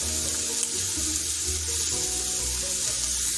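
Chopped taro leaves and stems go into a hot pan, giving a steady, hissing sizzle that holds evenly throughout with no voices.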